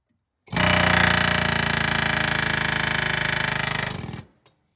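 An air compressor on a vehicle's air brake system runs with a loud, rapid mechanical chugging pulse. It lasts about four seconds with no talk, then cuts off abruptly, followed by a small click.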